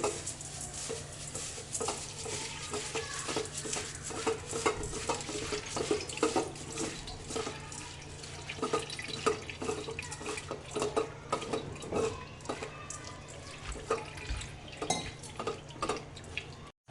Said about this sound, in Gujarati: તો પૌવા ધોઈ લઈએ આપણે, હળવે હાથે ધોઈ લેવાના